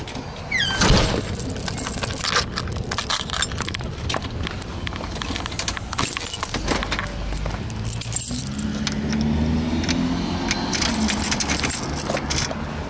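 Keys jangle loudly and repeatedly near at hand, mixed with rustling and handling noise, with a car and a brief voice in the background.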